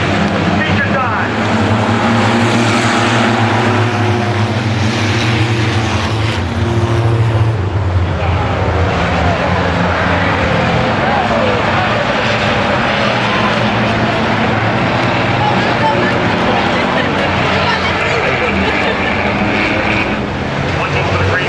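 Race cars at USA Speedway roaring around the track in a dense, loud, continuous engine drone that fills the whole stretch, with an announcer's voice running over it.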